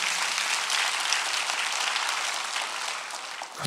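Congregation clapping during a Korean church Sunday worship service, a dense, sustained wash of many hands applauding together, steady and fairly loud before tapering off at the end.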